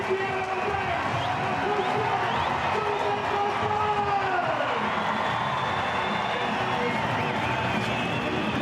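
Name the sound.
stadium crowd cheering at rugby league match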